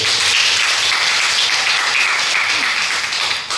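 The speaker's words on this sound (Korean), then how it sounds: "박수." A church congregation applauding during a Korean Presbyterian Sunday sermon, a dense, even wash of clapping that holds steady the whole time and fades slightly at the end.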